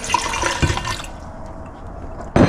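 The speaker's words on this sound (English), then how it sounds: "Pour all the solution out." A warm chemical solution splashes and gurgles as it is poured off tiny IC chips being processed for gold, then trickles off, followed by a short sharp clatter near the end.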